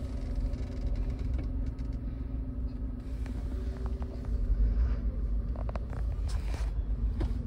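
A car's engine rumbles at low idle, stuck in slow-moving traffic near Nagothane on a road trip to Konkan, a steady near drone with faint passing vehicle sounds throughout.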